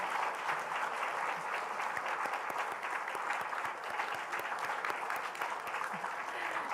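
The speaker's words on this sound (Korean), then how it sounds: "박수로 화답 부탁드립니다" A church congregation applauds steadily and warmly, a dense, continuous clapping that fills the room from start to finish.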